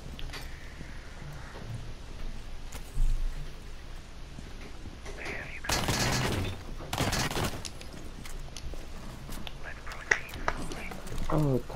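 Revolver fire in a video game, a few sharp loud bursts of shots clustered in the middle, with quiet speech and faint game ambience around them.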